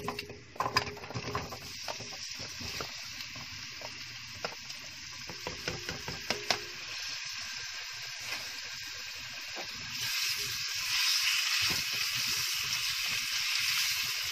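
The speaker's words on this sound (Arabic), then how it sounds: "انا بس هستنى الزيت يسخن وابتدي انزل بالخضار بتاعي، وابتدى يسخن على طول اهو" Vegetables dropped into hot oil in a pan sizzle steadily, with a few clattering stir strokes early on and a hiss that swells louder and denser toward the end, close up with no talking.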